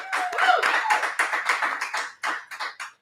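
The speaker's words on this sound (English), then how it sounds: "you give Jessica Ann a big round of applause" Applause for a coworker, Jessica Ann, at a live bourbon tasting: a few seconds of dense, close clapping from a small crowd that thins into scattered claps toward the end.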